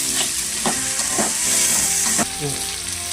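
Onions and drumstick pieces sauté in a pan for a fish curry, giving a loud, dense, steady sizzle close up, with several scraping stirs of a spoon against the pan.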